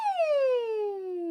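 A singer's voice glides downward in a smooth, clear siren-like slide on the thin vocal folds as a head-voice exercise, one continuous tone with no talking, a human voice imitating a siren.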